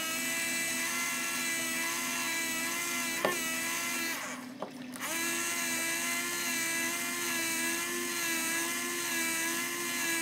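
A power tool with a steady high-pitched whine backs out long threaded screws while building an Edge 540 model, running nearly continuously up close with one brief dip and stop partway through before spinning up again; no voices.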